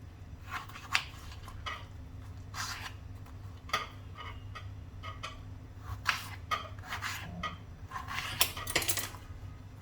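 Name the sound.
cutting peeled potato into thick pieces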